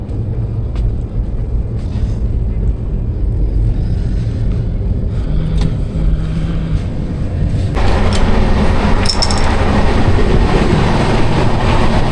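Train rumbling along on the rail journey from India to Nepal: steady loud low rumble and rattle of the carriage, growing louder and harsher near the end with metallic squeals, no voices.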